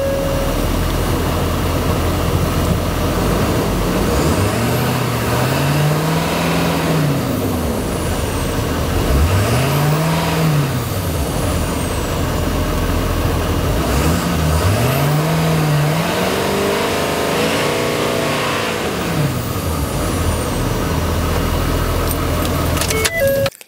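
Ford F-350 Super Duty pickup with a 6.7L Power Stroke diesel, recently repaired intercooler pipe, idling loudly and close, then swelling through several rising-and-falling revs with turbo whine above the engine drone, no talking.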